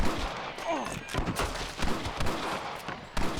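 Rapid gunfire crackles through a Red Dead Redemption shootout, dense overlapping shots from several guns with sharp bursts throughout, close and loud, mixed with shouting voices.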